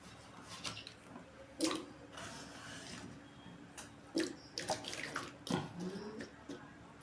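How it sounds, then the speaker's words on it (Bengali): Potato pieces go into a bowl of water one handful at a time, giving three distinct splashes and plops with a faint wet background between them, close by and with no speech. "আলুগুলো এবার আমি একটু জলে দিয়ে দেবো"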